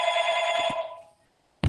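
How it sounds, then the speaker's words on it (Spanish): A telephone bell rings in the background during an online talk, one long trilling ring for about a second that stops abruptly, followed by a short bump of noise. "se escucha por ahí un teléfono"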